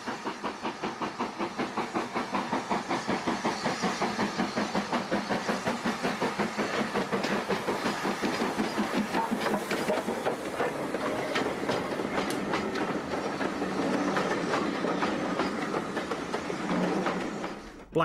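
LMS Black 5 steam locomotive 44806, built at Derby in 1944, running on the Llangollen Railway in North Wales, with a loud, close, steady rhythmic rail clatter throughout.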